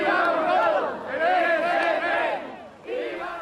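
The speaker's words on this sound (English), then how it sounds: "One chant at the rally was," A large crowd at a Madrid rally after the train bombings chants in unison, loud rhythmic waves of many voices rising and falling, with a short pause before the next phrase.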